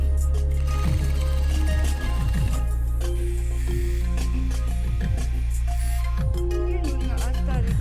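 A sewing machine runs steadily, stitching a long seam through a bedspread layered with Dacron batting, a continuous close whir with a brief pause near two seconds before the motor resumes.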